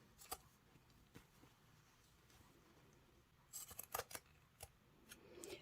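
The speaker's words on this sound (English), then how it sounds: "the first thing I have to do is chop off the elastic around the outside of the fabric" Scissors chop the elastic edging off an old bed sheet, giving a few faint, crisp snips early on, then a quick cluster of sharper cuts near the end over a quiet background.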